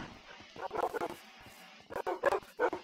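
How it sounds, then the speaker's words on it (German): Wolves in a Minecraft-style block game, kept in a zoo enclosure, give short clipped barks in two quick bursts separated by a brief lull. "Die bellen ja richtig."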